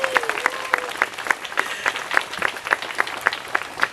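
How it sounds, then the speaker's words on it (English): Applause for an honoree at a Save Soil walkathon event: fairly faint, evenly spaced clapping with a steady rhythm, sounding like a small number of hands rather than a large crowd. "I think he deserves a huge round of applause here."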